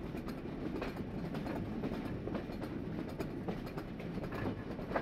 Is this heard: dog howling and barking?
no